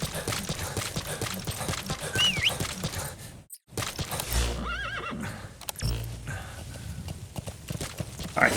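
Horse hooves clip-clop in the video game Metal Gear Solid V: The Phantom Pain, a steady trotting rhythm mixed with game ambience, with a neigh partway through and a brief dropout near the middle.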